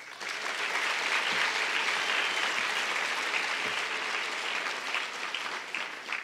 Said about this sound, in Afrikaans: dat die skool vir jou weer lekker kan hande klap